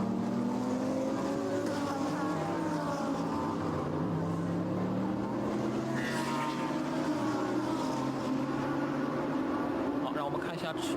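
GT3 race cars running nose to tail on a circuit give a steady, droning engine roar with shifting pitch throughout, heard beneath continuous commentary.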